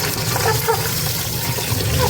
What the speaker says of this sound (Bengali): পরিমাণ মতো এবার জল দিয়ে দেবো